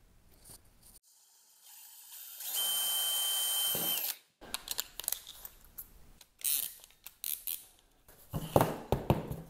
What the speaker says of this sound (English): We're going to drill a hole in the spark plug cover.